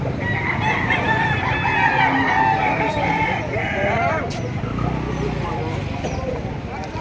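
Roosters crow repeatedly amid a busy crowd of clucking chickens at a fighting-cock market in Padre Garcia, with people talking in the background throughout.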